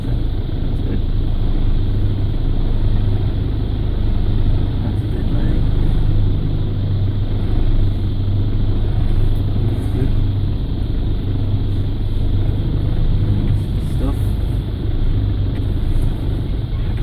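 A car drives slowly across grass, its engine rumbling low and steady throughout with faint rustling and a few light knocks, heard close and alone.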